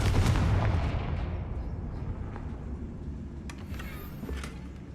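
A Confringo fire spell blasts in Hogwarts Legacy, a loud burst at the start that rolls into a heavy, rumbling decay, with a couple of faint crackles later in the tail.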